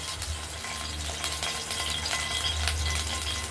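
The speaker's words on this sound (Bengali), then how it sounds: "বড়িটা, তেলটা গরম হয়ে গেছে কড়াইতে," Bori lentil dumplings fry in hot oil in a wok, giving a dense, continuous sizzle with no talking.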